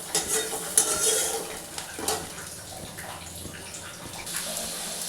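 Chopped tomato hits a hot pan of onions fried reddish-brown for a spicy bata fish curry, setting off a loud steady sizzle with scraping, stirring clatter close by and no talk.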